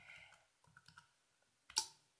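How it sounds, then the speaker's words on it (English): Computer keyboard typing, a few light scattered clicks close by followed by a louder single keystroke near the end, in a quiet room. "so I'm gonna type that in"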